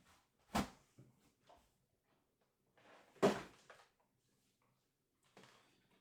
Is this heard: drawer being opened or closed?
yes